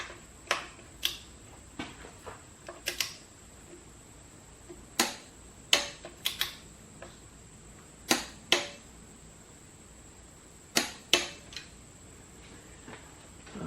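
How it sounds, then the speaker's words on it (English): Sharp, spaced clicks ring out one after another as a torque wrench tightens the transmission drain plug on a 2017 Subaru Forester with a CVT. About a dozen crisp ticks come in uneven bursts, close and fairly quiet, with no talk. "I'm going to torque it down about 24 foot-pounds of torque."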